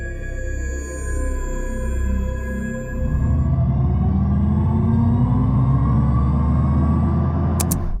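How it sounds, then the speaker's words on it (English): An Audi RS e-tron GT electric car produces its synthetic, futuristic driving tone, a layered electronic hum with a low droning rumble that swells and grows denser partway through, close and steady, with no speech. "It's like a futuristic noise that has been developed by a sound specialist and a computer nerd, and it's a bit odd."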